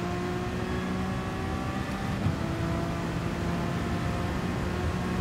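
A race car engine in Gran Turismo Sport, on a heavy wet Spa circuit, drones steadily at high revs, with a brief shift around the middle and a constant whining tone throughout.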